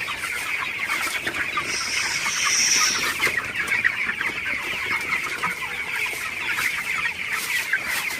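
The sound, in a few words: broiler chickens clucking and panting in the heat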